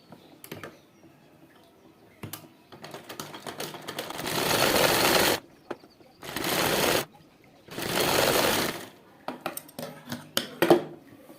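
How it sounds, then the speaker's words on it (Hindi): A sewing machine stitches the pocket of a ladies' trouser in three loud bursts of rapid, even clatter, with quiet handling and faint clicks between them. "यहाँ पॉकेट की सिलाई लगा लेंगे, पॉकेट को बंद कर लेंगे।"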